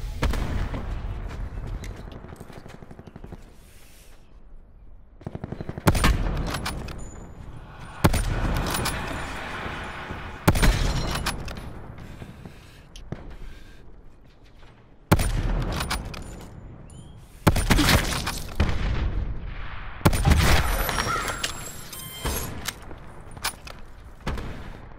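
Gunfire in a shooter video game arrives as sharp, loud bursts every few seconds, each cutting in abruptly and then tailing off into quieter stretches, with heavy booming impacts mixed in over roughly twenty-five seconds.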